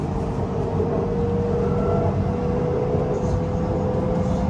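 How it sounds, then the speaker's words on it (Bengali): Steady low rumble of a Bangkok BTS Skytrain pulling away from the station, with a continuous hum and faint mechanical whine; no clear talk over it. "ট্রেনও চলে যাচ্ছে"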